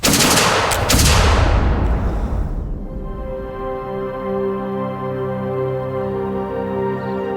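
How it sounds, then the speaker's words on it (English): A massed volley of flintlock muskets fires at once in a loud, sharp crackle of overlapping shots, then gives way to a sustained ringing tone. "massed volleys of flintlock musket fire could be deadly"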